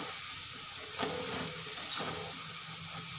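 Potato french fries deep frying in hot oil, a steady soft sizzle and hiss with brief louder crackles, close and continuous with no talking.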